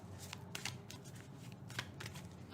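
Cards from an animal medicine deck shuffled and drawn by hand, a few soft riffling and flicking bursts up close, quiet and brief with no speech.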